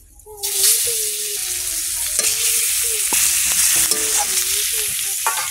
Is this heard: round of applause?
no